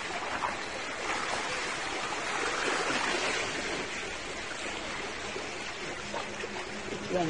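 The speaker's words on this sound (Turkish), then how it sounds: "dalgalarının sakinleştirici sesi." Calm waves wash in a continuous, soft broadband hiss with gentle swells and no distinct breaks, heard fairly close.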